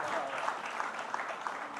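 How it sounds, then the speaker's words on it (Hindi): Enthusiastic applause fills the hall for poet Ashok Chakradhar, dense and steady clapping from a large audience throughout, with a voice briefly audible in the crowd. "जोरदार तालियां अशोक चक्रधर जी के"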